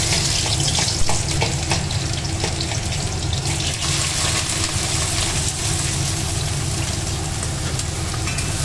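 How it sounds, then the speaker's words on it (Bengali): Chopped onion and garlic sizzle in hot oil with a loud, steady hiss that barely changes. A low hum sits beneath it, and no one speaks. "তো এটা যতক্ষণ না একটা বাদামি রং চলে আসছে ততক্ষণ মা এটা ভাজতে থাকবে"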